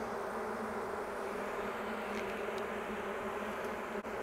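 Honey bees from a recent swarm buzz inside an open hive, making a dense, continuous drone with layered hum close by, steady throughout with no talk.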